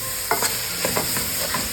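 Keema masala with ground coriander is stirred in a pan, several spoon scrapes and taps over a constant close sizzle.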